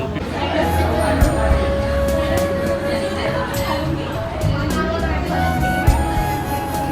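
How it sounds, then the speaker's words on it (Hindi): Crowd chatter fills a busy food stall, a dense, steady babble of many voices at close range with occasional clinks and knocks, while one person talks over it. "इस पे देखो भीड़ हमेशा रहती है इसमें।"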